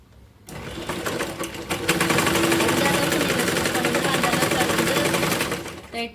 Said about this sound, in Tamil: இது பேக் ஸ்டிச் போட்டு நீங்கள் ஃபுல்லாகவே ஸ்டிச் பண்ணிவிடுங்க.